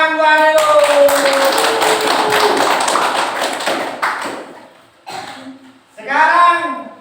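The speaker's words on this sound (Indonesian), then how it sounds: "Woi, tepuk tangan buat itu." A group applauding during a lesson, a burst of dense clapping mixed with voices that fades after a few seconds, followed by a brief pause and then more speech.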